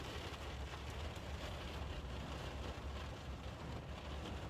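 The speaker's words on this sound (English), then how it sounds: "Oh, here comes the rain." Steady rain pattering across a surface during a tornado warning, heard as a continuous, even wash of noise with no talk.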